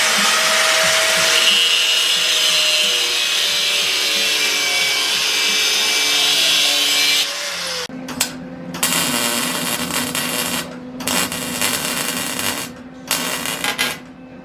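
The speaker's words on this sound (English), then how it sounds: "I'm going to take the frame outside of the garage and we're going to do some cutting and welding." Power tools cutting a steel sim racing frame in a garage: a long loud whining grind, then a buzzing crackle in bursts broken by short pauses, close and alone.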